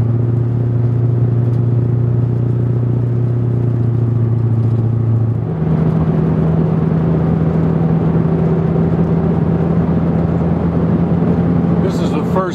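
A diesel car running on a waste-oil fuel blend drones loudly and steadily from inside the cabin, with a clear gear change partway through after which the engine note settles into a new pitch and keeps pulling. A voice talks over it.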